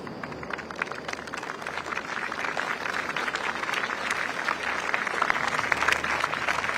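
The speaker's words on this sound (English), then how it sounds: "A round of applause now as incoming Prime Minister Lawrence Wong arrives on the Istana grounds with his wife." A crowd on the Istana grounds in Singapore applauds as incoming Prime Minister Lawrence Wong arrives with his wife, a dense outdoor patter of clapping that holds steady and swells slightly toward the end.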